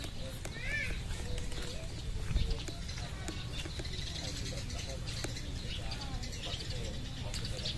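Several wild birds chirp and call at a distance in a rural village in Bekasi, Indonesia, mid-morning, over steady outdoor background noise, with a faint murmur of voices.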